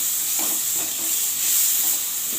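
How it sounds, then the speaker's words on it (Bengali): Boiled hog plums, cooked with salt and turmeric, are stirred in a hot pan for chutney, giving a steady bright sizzle with a few soft scraping strokes underneath. "তখন আমি এই আমড়া সেদ্ধটা দিয়ে দিচ্ছি।"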